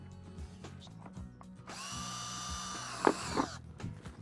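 A power drill whirs up and bites into a plastic plant pot for a couple of seconds, close and loud, with a couple of sharp cracks before it stops.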